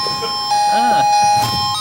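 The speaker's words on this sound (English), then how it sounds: "There's the doorbell." A doorbell chimes in a room, a steady ringing tone sounding over people talking close by.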